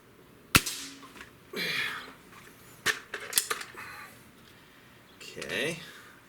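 A Beeman 2015S double-barrel air rifle with a scope fires a single sharp crack, followed by a few fainter clicks and rattles; a voice speaks briefly at a few points.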